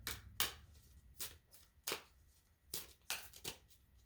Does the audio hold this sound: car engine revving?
no